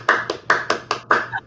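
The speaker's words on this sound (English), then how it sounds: "That deserved a hand clap." A person claps by hand six quick times in an uneven rhythm, close and fairly loud, with a hum in the background and no talk over it.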